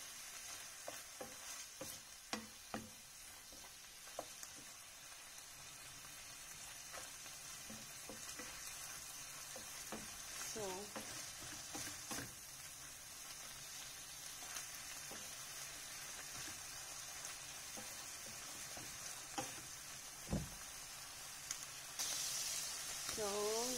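Garlic and onion fry in an oily pan for Filipino-style spaghetti, a faint steady sizzle broken by scattered stirring clicks and scrapes, with a brief thump and rising noise near the end.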